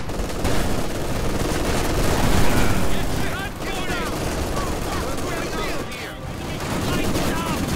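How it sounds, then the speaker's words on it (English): Dense, loud World War II video game battle with repeated bazooka and gunfire blasts layered over continuous combat noise, with whistling shell sounds in the middle and no pause throughout. "Oh damn, so many bazookas."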